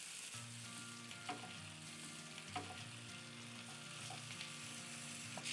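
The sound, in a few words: stirring and frying potatoes and onions in a pan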